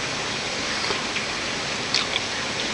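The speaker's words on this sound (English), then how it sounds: "It's raining now." Rain falling outdoors in Texas during a stormy spell, a steady broadband hiss with a few sharper drip or splash ticks near the end, continuous and fairly close throughout.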